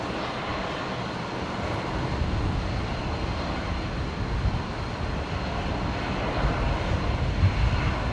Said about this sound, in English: Got a Virgin 7-3 down at the Virgin Apron, just beginning its taxi as well.